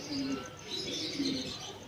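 Soft pigeon coos repeat at a low pitch, with a steady outdoor background hiss and some faint higher chirping.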